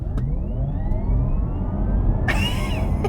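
Porsche Taycan Cross Turismo Turbo electric estate launching hard under launch control, a rising whine climbing steadily over a heavy low rumble of road and wind noise, loud and close, with a brighter burst near the end.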